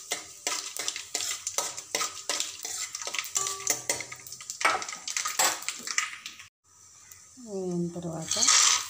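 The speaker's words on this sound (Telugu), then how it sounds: "కందిపప్పు వేసి సిమ్లో పెట్టి చిన్నగా కొద్దిగా వేగనివ్వాలి." Toor dal frying in a pan on a low flame, with a spatula scraping and stirring in quick repeated strokes under a voice talking nearby.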